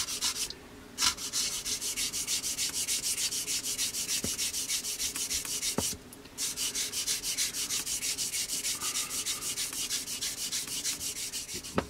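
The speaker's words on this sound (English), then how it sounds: "Just to make sure that we don't sand them away. So we're just blending the contours in." Back-and-forth rubbing of sandpaper on the plastic parts of a 1/48 scale Hobby 2000 P-40N Warhawk model kit, close and rhythmic, with two brief pauses.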